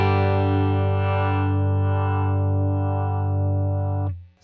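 A sustained, distorted electric guitar chord through a UAFX Dream 65 amp pedal with too much treble rings out loud and bright with a harsh, buzzy edge, then is abruptly choked off.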